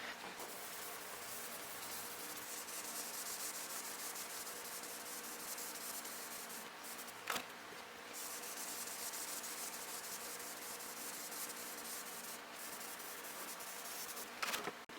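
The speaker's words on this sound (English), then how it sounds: "next step, 2000 grit sandpaper. I'm using a little bit smaller block" Steady, soft hissing rub of 2000 grit sandpaper on a block, wet sanding the surface of a Daher Kodiak 100, continuous back-and-forth strokes at close range with a couple of brief knocks.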